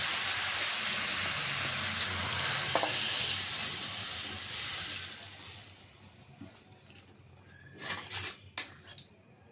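Broth poured into a pan of sautéed vegetables — flat beans, eggplant, potato and radish — sets off a loud, steady sizzle that fades into a low simmer, then a few sharp clinks of utensils near the end.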